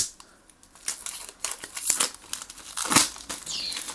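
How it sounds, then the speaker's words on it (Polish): A small cardboard card box being opened, its packaging crinkling and tearing in close, quiet bursts of rustle and crackle with short gaps between them. "O, otworzymy to pudełko małe na karty."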